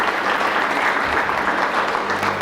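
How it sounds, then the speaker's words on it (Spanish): A conference audience at a talk on General Martín Miguel de Güemes applauds with continuous, even clapping from a large crowd that fills the whole stretch. "queremos agradecer su presencia con otro aplauso, por favor."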